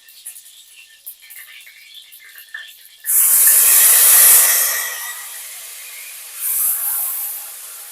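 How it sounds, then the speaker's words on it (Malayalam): Filtered palm jaggery poured into a hot pan sets off a sudden loud, breathy hiss that swells and then fades, followed by a second, smaller burst of sizzling. "ഇനി നമുക്ക് അരിച്ചു വെച്ചിരിക്കുന്ന കരിപ്പട്ടി ഇട്ട് കൊടുക്കുക"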